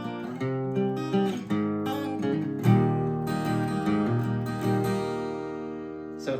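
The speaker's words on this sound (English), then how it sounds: "The second line, we're going to introduce some bar chords and some individual note picking." An acoustic guitar plays a quick passage mixing strummed bar chords with individually picked notes, with clear rhythmic attacks and ringing tones, solo and close.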